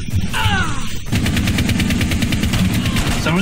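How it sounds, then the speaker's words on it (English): Rapid bursts of gunfire in the video game Rainbow Six, a loud continuous automatic spray that follows a brief sweeping effect, filling the whole stretch with dense overlapping shots. "I don't know where the shooting's coming from"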